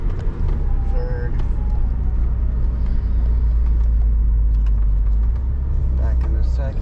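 A Mini in manual sport mode accelerates steadily under paddle-shifted gear changes, with a loud, continuous low engine rumble and road noise inside the cabin and a few faint shift blips.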